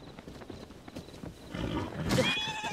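A horse in the video game Zelda: Tears of the Kingdom whinnies near the end after faint hoof clip-clops, a short, bright neigh rising over quiet game ambience.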